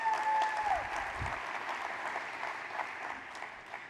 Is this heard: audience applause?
yes